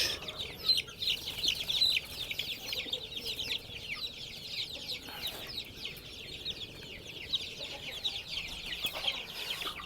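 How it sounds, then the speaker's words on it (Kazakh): Newly hatched chicks, a day old, fill a brooder with a dense chorus of continuous high peeping and cheeping, fairly close and steady throughout. "Міне мынау кеше бүгін шыққан балапандар."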